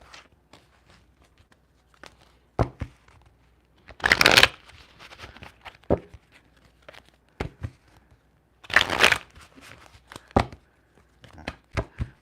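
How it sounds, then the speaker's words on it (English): A deck of cards is shuffled in a few quick riffling bursts, close and crisp, separated by quieter handling taps and soft rustles. "Let me get a little shuffle, a little light shuffle."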